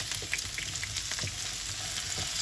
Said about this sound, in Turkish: Şimdi patatesleri karıştıralım.